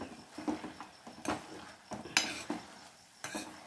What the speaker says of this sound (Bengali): এইভাবে আমি একটু নাড়িয়ে ম্যাশ করে নিচ্ছি।